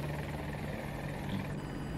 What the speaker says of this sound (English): Chopper towards Delta 1.